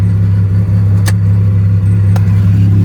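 A damaged car at an insurance auto auction lot idles loudly and close by, with a deep, steady engine rumble that never lets up and two brief sharp clicks over it.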